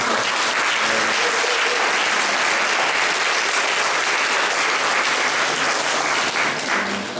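Dense, steady applause from a large conference audience fills the room, sustained and even throughout without a break.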